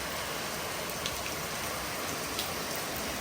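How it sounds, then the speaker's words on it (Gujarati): Heavy rain pours down in a dense, unbroken roar, loud and steady from start to end with no voices. "અહીંયા વરસાદ આવે છે ધોધમાર"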